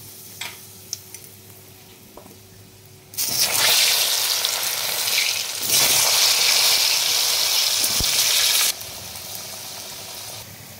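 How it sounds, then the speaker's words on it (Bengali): Taro pieces hit hot mustard oil with a sudden loud sizzle that continues with stirring, then drops back to a quieter background hiss near the end. "আমি কচুগুলোকে আগে ভেজে নেবো।"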